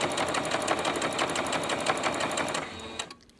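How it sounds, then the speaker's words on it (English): Sewing machine straight stitching at high tension, sewing forward and back in a fast, steady mechanical chatter that runs loud for about three seconds before stopping abruptly. "as we sew, I'm going to forward and back stitch"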